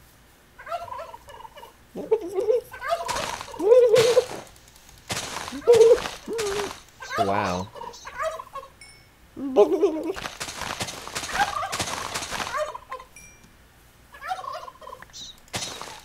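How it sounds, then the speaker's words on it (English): Video game turkeys gobble in repeated loud bursts, close by, with a person's voice breaking in between the calls. "Turkeys!"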